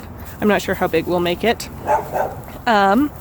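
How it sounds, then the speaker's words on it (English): Several dogs bark and yip in quick bursts close by outdoors, sharp repeated barks under and between a person talking. "Sorry about the dogs."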